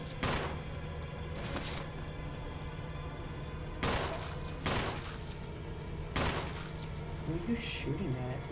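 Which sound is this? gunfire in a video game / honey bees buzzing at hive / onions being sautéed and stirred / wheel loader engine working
gunfire in a video game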